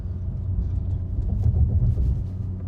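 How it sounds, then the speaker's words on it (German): A car crosses railway tracks in city traffic, heard from inside as a steady low rumble with a cluster of soft bumps and thuds midway through. "Wir fahren jetzt gleich über Bahnschienen drüber."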